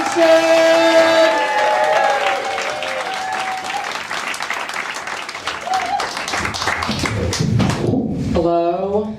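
A comedy club audience applauds and cheers to welcome a comedian to the stage, a dense continuous wave of clapping that fades toward the end as a voice begins speaking.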